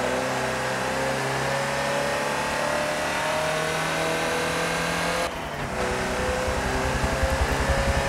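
Ford Transit van in the Forza racing game revs hard around the Nurburgring, a continuous engine drone rising and falling through gear changes, with a brief dip mid-lap.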